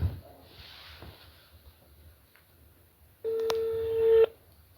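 Telephone dialing tones, a single steady electronic tone held for about a second after a quiet stretch with faint background noise.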